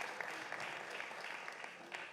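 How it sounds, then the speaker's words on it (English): Audience applause for mayoral candidates at an arts forum, a steady patter of clapping from a crowd that fades slightly toward the end. "Let's give them a round of applause"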